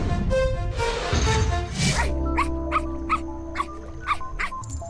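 A pet dog whimpers in short, high, repeated whines in an animated cartoon scene, coming in bursts over a low sustained background tone after an opening stretch of tonal music or voices.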